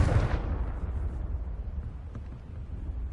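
A Confringo blasting spell detonates in Hogwarts Legacy on PS5, one heavy boom at the start trailing into a long low rumbling decay, fairly loud and with no talking.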